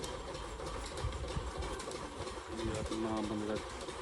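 Soft pigeon cooing in short repeated phrases near the end, over a steady low rumble of background noise.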